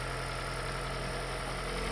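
A Toyota Prius 30 hybrid engine idles after EGR cleaning, running as a steady, even hum with no stumbling, close up and continuous without voices.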